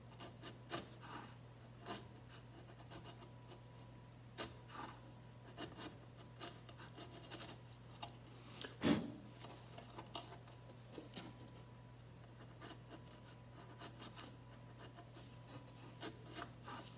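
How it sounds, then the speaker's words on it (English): A quarter inch chisel shaving wood from the stem of a Freedom 17 canoe, making quiet scattered scraping strokes with one sharper cut near the middle over a steady low hum, and no talk. "So I'm gonna take this little quarter inch chisel, and I'm just gonna carve that off of there just a hair."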